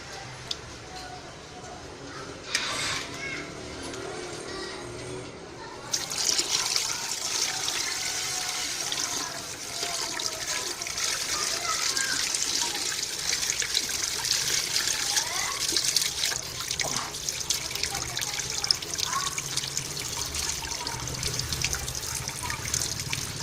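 Water is changed in a container, with steady running water and trickling that grows louder partway through and continues to the end; faint voices sound in the background.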